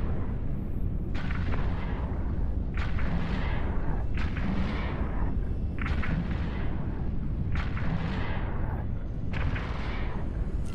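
Ship guns firing in an Eve Online space battle, a series of about six heavy booming shots at roughly even intervals, each with a rumbling tail, over a constant low background roar.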